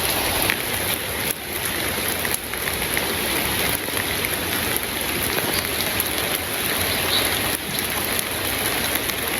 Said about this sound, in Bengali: বৃষ্টি তো থামবারই হয় না